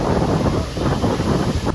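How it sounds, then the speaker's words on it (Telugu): Strong wind buffets the microphone in a steady, loud roar that fills the whole moment, broad and rumbling with no voices. "అదే టైంకి గాలి కూడా చాలా ఘోరంగా వచ్చింది."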